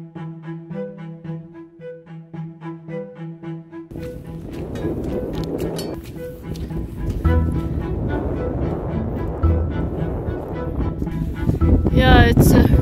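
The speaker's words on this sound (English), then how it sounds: "it's really windy today" Strong wind blowing on a small fishing boat out at sea while after yellowtail kingfish, a steady loud roar of gusts buffeting the microphone that builds and stays heavy through the second half.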